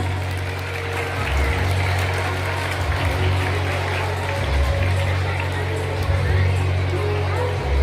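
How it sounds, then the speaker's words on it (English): Students in a crowded hall applaud newly invested Tilak House Captains at a school investiture ceremony, a sustained dense wash of clapping that swells and holds over a low steady hum. "please clap for your new Tilak House Captains"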